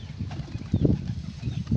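Rapid flapping of a pigeon's wings as it lands on a loft close by, a quick flurry of soft thumping beats over about two seconds, with no voices.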